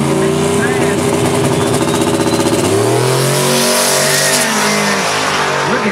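An orange Mustang race car accelerates down a racetrack, its loud engine climbing in pitch, then shifting and pulling away, with crowd or announcer noise mixed underneath.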